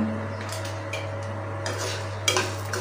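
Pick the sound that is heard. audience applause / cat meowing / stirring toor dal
stirring toor dal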